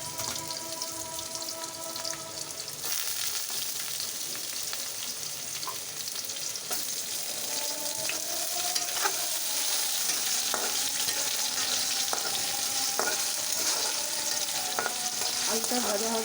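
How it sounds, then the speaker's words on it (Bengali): Potatoes fry in a home pan, a steady dense sizzle with crackling bursts running throughout at close range, rising slightly in intensity after the first few seconds with no one talking. "আলুটা ভাজা ভাজা হলে তারপর মশলাগুলো দেবো"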